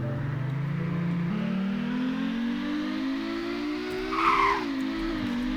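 A Ferrari FF accelerating hard from 0 to 100, its engine note climbing steadily over several seconds with a brief shift-like dip and a short squeal near the end, loud and close.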